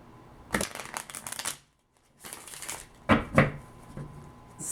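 A deck of tarot cards is shuffled by hand in three quick riffling bursts, close and crisp, separated by short pauses.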